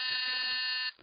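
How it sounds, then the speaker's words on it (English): A door buzzer sounds in one long, loud, steady electric tone for nearly a second, then cuts off abruptly, with no voices over it. "That was again the door buzzer."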